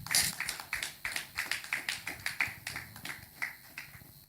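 Moderately sparse applause at a nursing sciences event, a handful of people clapping in a quick, fairly regular patter at middle distance for several seconds, tapering slightly at the end.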